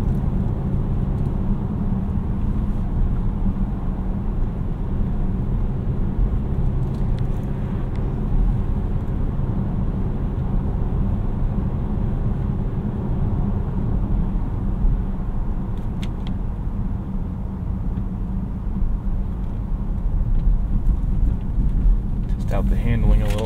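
2019 Volvo S90 T5 turbocharged engine pulling steadily uphill from low revs, a continuous low drone with road and cabin rumble heard from inside the car, with someone talking over it.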